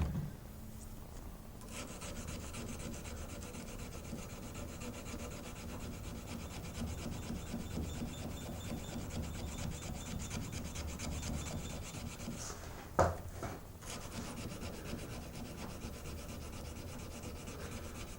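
A knife blade is rubbed by hand with 220 grit sandpaper in long, steady back-and-forth rasping strokes, continuous and close, with one brief sharper scrape partway through and no talking.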